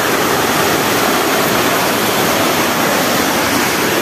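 A loud, steady roar of rushing water from a nearby waterfall in São Sebastião, Brazil, dense and unbroken throughout.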